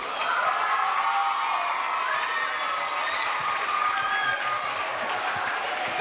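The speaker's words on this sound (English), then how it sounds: "can we give Mr. Lasorda a big round of applause as a thank you for coming to Chadwick today?" Boys and girls at a school give a sustained burst of applause after a speech, with dense clapping, cheering and whoops from a large crowd, steady and loud throughout.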